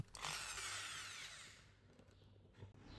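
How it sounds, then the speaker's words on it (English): A rotating power drill whirs steadily while forming brass wire into coils, a loud continuous motor whine that fades and slows toward the end, with faint knocks after. "here I use a rotating drill as a tool."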